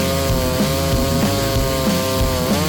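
Husqvarna 394XP chainsaw with a modified piston cutting at full throttle, a loud, close, buzzing high-rev whine that dips and recovers as it bites through wood.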